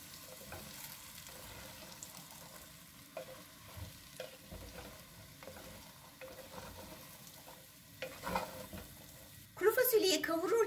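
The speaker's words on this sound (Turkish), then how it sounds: "Şöyle çok hafif kuru fasulyeyi de kavuruyorum." Dried beans sauté with sucuk sausage in rendered fat in a pan, giving a soft steady sizzle with light stirring scrapes and a louder burst of clatter near the end.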